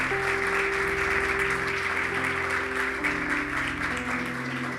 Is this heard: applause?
yes